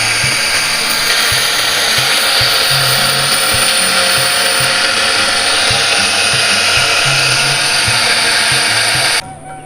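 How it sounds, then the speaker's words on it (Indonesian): Cut fiber being sharpened into blowpipe darts with a power tool, a loud, steady high whine with a continuous grinding hiss and some low rhythmic knocking underneath, running without a break and cutting off abruptly at the end. "Awal kita tajamkan dulu fiber yang sudah dipotong tadi."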